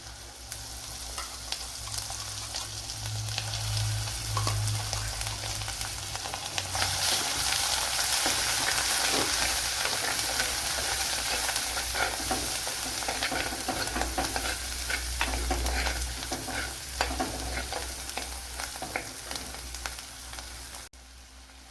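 A loud, continuous sizzle of ground paste for garlic kuzhambu frying in a hot pan, with occasional scraping and stirring sounds throughout.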